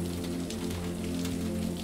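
Steady rain patters on a houseboat in Seattle at night, a dense even hiss with scattered drops and a low constant hum underneath, continuous throughout.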